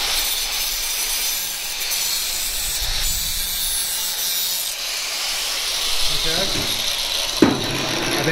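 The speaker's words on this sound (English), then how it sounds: "We're going to take this hot grinder." A grinder works inside a steel driveshaft, giving a continuous harsh, hissing scrape close by. A sharp metallic clank sounds near the end.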